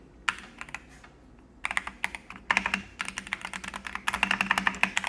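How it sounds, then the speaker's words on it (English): Rapid bursts of typing on a DunkDeer A75 wired mechanical keyboard with tactile keys, clicks and clacks close and clear, coming in quick clusters with short pauses between them. "You can listen to the noise here."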